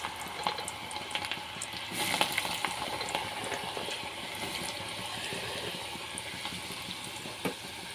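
Radish pieces for homemade pickle frying in hot oil in a pan, a steady close crackling sizzle with bursts of spattering, heard alone without talk.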